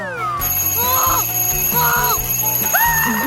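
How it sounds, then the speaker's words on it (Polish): An alarm clock ringing loudly in repeated bright, bell-like bursts with a rising and falling tone, close and insistent, over a sustained background. "Pilnie potrzebuję budzika."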